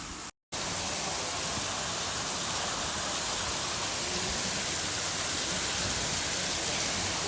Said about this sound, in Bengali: বিকেলে হঠাৎ অনেক বৃষ্টি হয়েছে, মানে ঝুম বৃষ্টি যাকে বলে